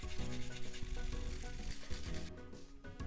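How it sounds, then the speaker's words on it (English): Fresh ginger and garlic rubbed against a kitchen grater, producing a continuous rough scraping with repeated back-and-forth strokes, close and moderately loud. "So with that, the ginger and the garlics are grated."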